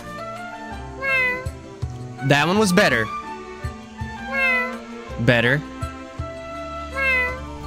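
A human voice imitates a cat in a video game, producing a series of drawn-out, wavering meows, some high and strained, spaced across the stretch with short spoken remarks between them.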